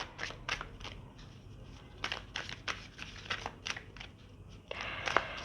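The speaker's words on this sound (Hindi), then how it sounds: "So shuffle again." Tarot cards being shuffled by hand, a series of soft papery riffles and flicks in short bursts, fairly quiet and close, with no voice.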